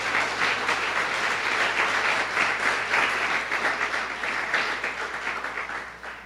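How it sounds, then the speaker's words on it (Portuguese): A church congregation applauds steadily for several seconds, a dense wash of clapping that thins slightly toward the end. "Dê uma salva de palmas ao Senhor."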